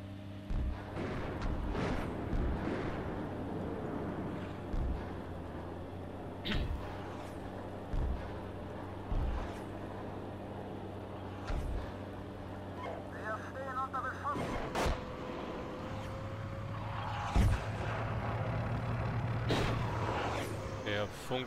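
Artillery fire in the tank simulator Steel Beasts Pro booms out in scattered heavy thuds against a steady engine drone, with radio-style voices talking over it.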